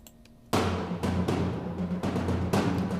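Cinematic percussion, captured by a room microphone, strikes with several strong, fairly close drum hits at roughly half-second intervals, each booming low with a bright attack and a ringing decay.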